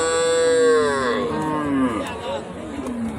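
A dairy cow with her calf moos at a livestock market in Joypurhat, one long, loud, nearby bellow that slides downward in pitch and fades, followed by softer lowing and faint crowd murmur.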